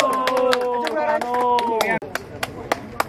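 A group of people claps in celebration at a fireworks display at a Thai Binh garden home. The applause is a burst of sharp, close claps, partly under a voice speaking, then thinning to a few scattered claps.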